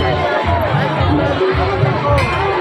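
Dense crowd babble at a village fair held for Naraka Chaturdashi in Neuri, Biraul, Darbhanga, a steady close hubbub of many overlapping voices with no single speaker standing out.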